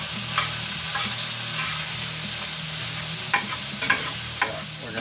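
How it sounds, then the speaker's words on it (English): Sausage browning in a hot pan for biscuits and sausage gravy, a constant close sizzle and frying crackle with a few sharper pops and scraping stirs. "So back to the sausage at hand. Give them some nice brown on that."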